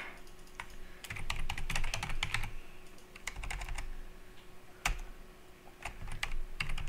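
Someone types a cheat code for The Sims 4 on a computer keyboard in quick irregular bursts of close clicking keystrokes with short pauses between, no talking.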